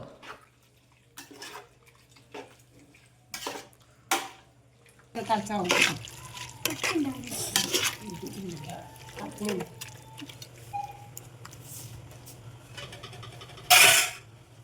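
Chicken and steamed pidi are stirred together in a pot, giving wet, sloppy scraping and squelching with metallic knocks against the vessel, close and irregular, mixed with talk and a steady low hum.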